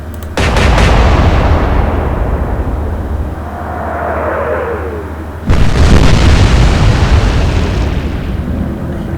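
Naval guns fire and shells explode in the naval combat game Atlantic Fleet, two heavy booming blasts a few seconds apart, each trailing into a long loud rumble, with no talk.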